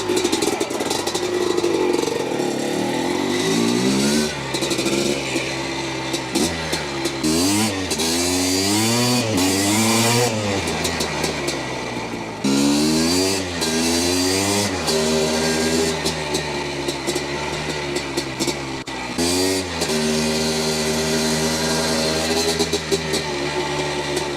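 Restored 1980 Honda CR250 Elsinore two-stroke motocross bike engine, loud and close, revved repeatedly with rising and falling crackly blats and brief drops back to a popping idle between revs.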